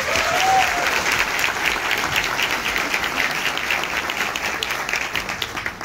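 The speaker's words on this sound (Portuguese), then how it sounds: "Uma salva de palmas." Audience applause at a business breakfast meeting of a commercial association, a sustained dense wash of many hands clapping, steady and fairly loud, tapering slightly toward the end.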